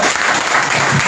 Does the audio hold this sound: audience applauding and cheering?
yes